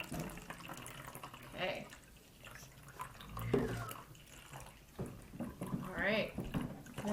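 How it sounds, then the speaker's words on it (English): Vinegar trickles and splashes into a bottle for a balloon experiment, soft liquid gurgles and pouring sounds broken up by children and an adult talking nearby. "Vinegar's going in."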